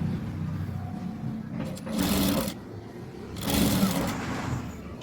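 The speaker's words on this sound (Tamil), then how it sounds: "சும்மா ரஃப்புக்காக தையல் விடுறேன்." A sewing machine runs in two short bursts of rough stitching on a blouse, close and fairly loud, with a low background hum between the runs.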